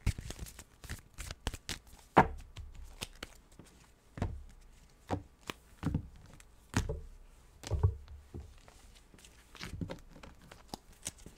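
Tarot cards shuffled by hand, giving a scattered series of soft riffles and slaps at an uneven pace, close and fairly quiet.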